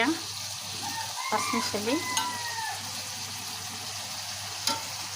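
Jackfruit, potato and eggplant are stirred and sautéed for a dried fish curry in a pan. Continuous sizzling frying runs throughout, broken by scraping stirs and a few sharp clinks of the utensil.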